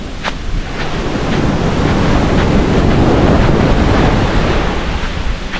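Big waves crash and swell on a rough sea, building into a loud, steady roar of surf with wind rumbling across the microphone.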